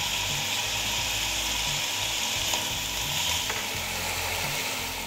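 Mushrooms, carrots, green onion and corn fry in a pan for soup, giving a steady close sizzle throughout with faint stirring scrapes, no talk over it.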